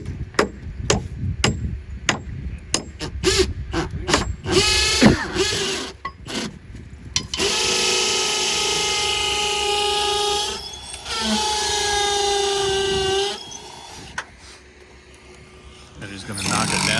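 Drilling through a wall's bottom plate into cement on a construction set, heard as sharp impact knocks and then sustained power-tool whine in two long bursts, with voices and other job-site noise around it.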